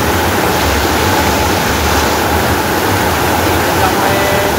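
A waterfall near Shivapur village in the Sahyadri hills roars close and loud as a dense, unbroken rush of falling water with no pauses.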